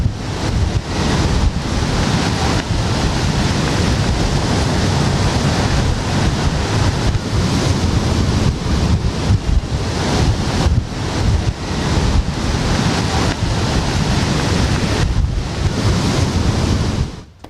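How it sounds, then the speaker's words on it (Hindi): Sea waves surging toward the shore in Japan ahead of a tsunami, a continuous loud surf roar mixed with heavy wind buffeting, no voices. "ये देखिए समंदर की लहरों से आपको अंदाजा होगा, समंदर की लहरें आगे आ रही हैं"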